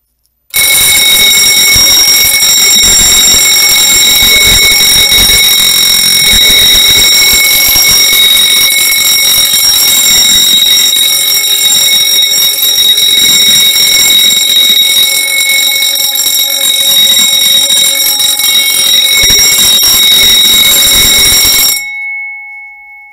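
A fire alarm bell on a test wall with an I3 device rings continuously and very loudly for about twenty seconds, a harsh metallic clang that stops abruptly as the panel is silenced.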